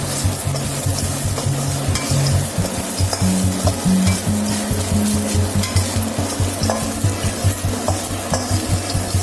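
Dried coconut fries in a pan while a spoon stirs it, a steady sizzle under repeated rhythmic scraping and clinking of metal, close and alone.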